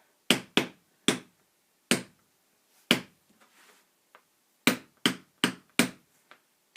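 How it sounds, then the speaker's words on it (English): A hammer drives a 6-inch nail into a lino block, giving about a dozen sharp, close knocks in an uneven rhythm, some in quick pairs, with brief quiet gaps and faint scraping between strikes. "I'm going to use one of these 6-inch nails now, and my hammer"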